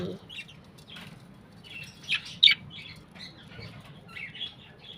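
A pet bird kept indoors gives short chirps and a couple of sharper squawks, faint and scattered over a quiet background with a little low talk.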